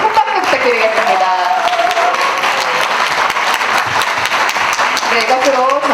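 Steady, dense applause fills a hall from an audience at a book launch event in the National Assembly Library, a continuous clapping that holds level throughout with no pauses.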